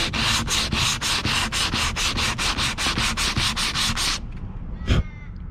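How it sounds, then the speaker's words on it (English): A patched hole sanded by hand with 120 grit sandpaper, about fifteen quick, even rasping strokes close by, followed by a pause and one last scrape. "So if we take the sandpaper, this one here is 120 grit, and you can see there it comes up perfect."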